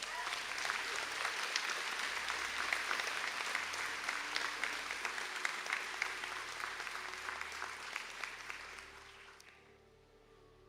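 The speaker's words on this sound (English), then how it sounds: "please stand up for a round of applause." Creative design graduates at a Sligo and St Angela's conferring ceremony receive a sustained round of applause from the hall, even clapping lasting around nine seconds before tapering off quietly.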